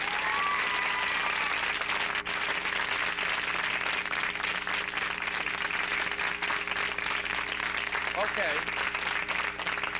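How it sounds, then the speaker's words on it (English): A studio audience claps its hands loudly to test a microphone, a dense, steady burst of applause lasting throughout, with a brief spoken word near the start. "have them clap their hands real loud to try out the microphone"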